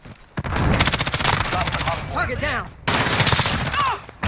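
Rapid bursts of automatic gunfire in a video game shooter, two loud sustained volleys split by a brief pause, with a voice calling out partway through.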